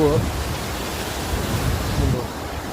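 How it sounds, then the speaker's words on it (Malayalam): Kottayam district's largest waterfall produces a steady broadband roar of rushing water, continuous and fairly loud throughout, with faint traces of a voice near the start and end. "ഇതാണ് നമ്മുടെ വെള്ളച്ചാട്ടം"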